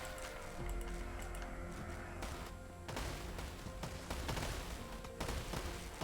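Hand cannons firing in a World War-era real-time strategy game battle, a dense crackle of overlapping gunshot volleys with sharp bursts over continuous battle noise, no talking.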